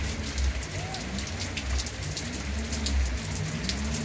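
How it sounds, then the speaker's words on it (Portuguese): Heavy rain falls steadily on surfaces on a cloudy winter afternoon in Alagoas, Brazil, making a dense, continuous hiss with low rumbling underneath and no clear talk. "Muita chuva."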